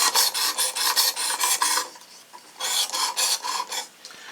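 A blade scrapes rhythmically across a Work Sharp Precision Adjust knife sharpener in repeated rasping strokes, a burst of several passes, a short pause, then more, close and fairly loud.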